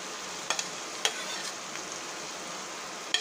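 Thinly sliced onion frying in sesame oil in a pan, a soft steady sizzle with a few sharp little pops and crackles scattered through, fairly quiet and without talk.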